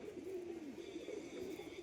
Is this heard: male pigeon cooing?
yes